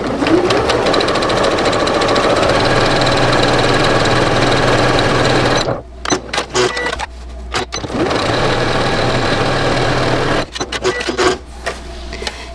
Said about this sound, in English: we are just going to sew down these 3 strips